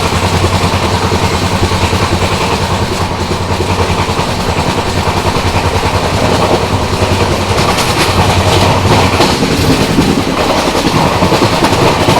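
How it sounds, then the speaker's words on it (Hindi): The Jhelum Express arrives at Uruli railway station near Pune, heard from on board. There is a loud, continuous rumble of rolling wagons with rhythmic clickety-clack over the rails and no talking. "यहाँ पर अपनी झेलम एक्सप्रेस पहुँच रही है अपने पहले ऑफिशियल हॉल्ट उरली रेलवे स्टेशन पर"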